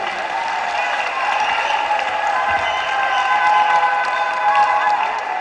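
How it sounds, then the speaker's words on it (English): A crowd of delegates at a political rally in Agotime Ziofe claps and cheers for women, a steady dense wash of applause with some voices mixed in throughout. "clap for women, clap for women."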